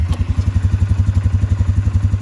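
A 2022 Polaris Sportsman 570 EPS ATV engine idling just after starting, a steady low, even thumping putter, close and fairly quiet, with no voices.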